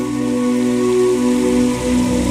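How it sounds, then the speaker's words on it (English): Rain falling in the Minecraft video game, a loud, steady hiss of rainfall with a constant droning texture that runs unbroken from start to finish. "The fact that it started raining just now"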